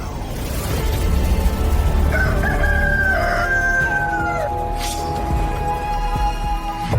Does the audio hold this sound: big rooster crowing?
yes